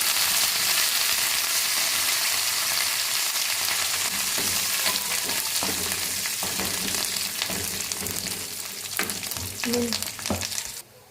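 Curry leaves sizzle in hot oil as a tempering for mango chutney, a loud dense crackling hiss that holds steady, then thins out toward the end with a few scattered pops and stirring clinks.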